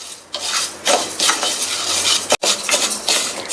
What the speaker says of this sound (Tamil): எடுத்து வச்ச பாசிப்பருப்பை சேர்த்துட்டு மிதமான தீயில வச்சு வறுத்துக்கங்க.